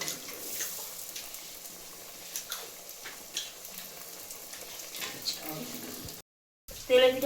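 Pitha rice cakes frying in oil: a steady low sizzle runs throughout with faint clinks and stirring, briefly cutting out near the end before a louder clatter.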